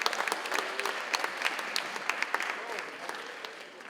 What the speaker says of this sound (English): you can give yourself a round of applause if you want